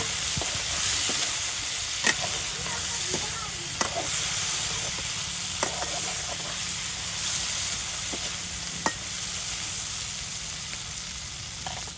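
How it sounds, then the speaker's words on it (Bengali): Chopped onion fries in hot oil in a village kitchen in Hatiya, a steady loud sizzle broken by scattered crackles and pops, with faint speech underneath. "দিয়ে দিচ্ছি পেঁয়াজ কুচি"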